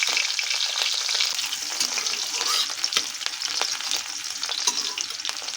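Whole cumin seeds, garlic and green chili frying in hot oil in a pan for okra egg bhurji: a close, steady hissing sizzle with scattered sharp pops and crackles, plus occasional stirring scrapes, with no voices.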